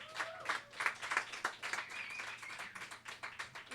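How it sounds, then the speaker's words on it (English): An open mic audience at a live garden event claps for a performer coming up to play music, a modest round of applause from a small crowd with distinct individual claps, fairly quiet and fading toward the end. "Give him a round of applause."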